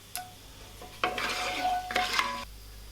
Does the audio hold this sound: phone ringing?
no